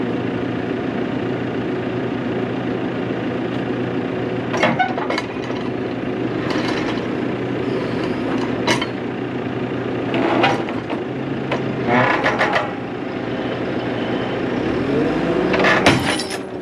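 A loader's diesel engine idles at tick over with a steady low rumble, joined by occasional clanks, squeaks and metallic knocks from a tensioned chain at a trailer repair, without speech.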